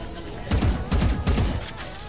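Swarm grenades go off in a video game firefight as a loud, rapid chain of overlapping blasts and crackling pops, running about a second and a half.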